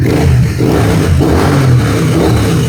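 A 2024 Triumph Street Twin motorcycle engine runs loud and close, a steady throbbing idle with a few blips of revving, uninterrupted for the whole stretch with no talk.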